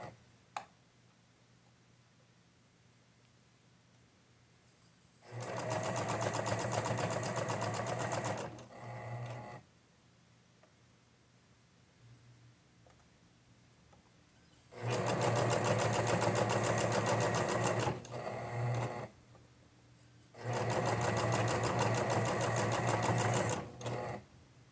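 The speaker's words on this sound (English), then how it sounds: "We're stitching through all the layers right now." Three separate runs of a sewing machine stitch through bias binding and a dress bodice, each a few seconds of steady close whirring, separated by quiet pauses.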